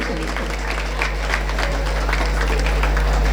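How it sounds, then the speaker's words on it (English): An audience at a felicitation ceremony during a college freshmen social claps steadily and loudly throughout, a dense unbroken patter of many hands. "This clapping should go on actually."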